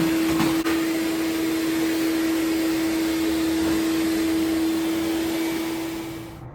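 A wet/dry vacuum runs continuously with a steady high whine and airy roar, holding constant before winding down at the end.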